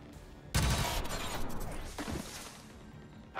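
A burst of gunfire in XCOM 2, a loud crack followed by a rattling volley and a couple of further sharp shots, with game sounds fading behind.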